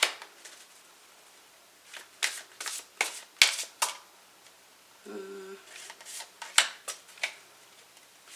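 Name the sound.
shuffling tarot cards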